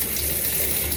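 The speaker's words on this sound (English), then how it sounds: "You see how water is going through, and basically you are pressure washing" Running water from a tap rinses a part of a Roborock cordless stick vacuum, a steady, full, hissing gush throughout with no breaks.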